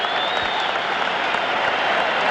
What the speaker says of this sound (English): They won't stop applauding.